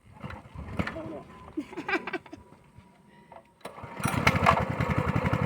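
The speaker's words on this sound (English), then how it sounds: "That's a riding lawnmower." A riding lawnmower's small engine cranks and catches, then settles into a loud, close, rapid chugging idle, with people talking over the starting attempts.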